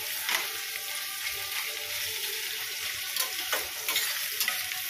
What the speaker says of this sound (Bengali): ততক্ষণে বেরেস্তাটা ভাজা হয়ে যাক।